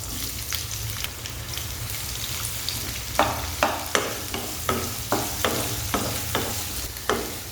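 Thinly sliced onions sizzle steadily in hot oil for a Kerala-style squid roast, with a run of sharp, regular scraping stirs in the second half, close and alone without talk.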